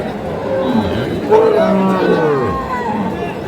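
Cattle at a busy livestock market in Kaharol, Dinajpur, let out a loud, drawn-out moo close by, with a crowd murmuring in the background.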